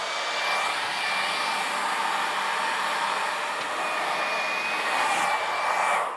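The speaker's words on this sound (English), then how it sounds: "I'm gonna get after it with my heat gun or with my hair dryer" A hair dryer blows steadily and loudly on a first-generation Camaro headliner to work out creases, a constant broadband whoosh with a faint whine running throughout, no voices.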